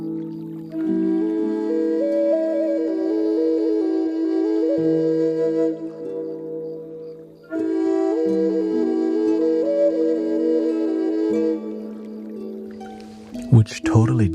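Native drone flute played with the drone pipe overpowering the melody pipe, a steady low humming drone under wavering breathy melody notes in two long phrases, ending with a brief clatter.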